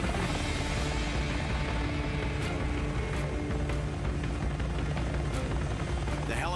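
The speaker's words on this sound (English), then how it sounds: "The helicopters evacuate the wounded." A medevac helicopter evacuating wounded soldiers during Ranger training thunders close and loud, its rotor chop steady and continuous over constant engine roar throughout.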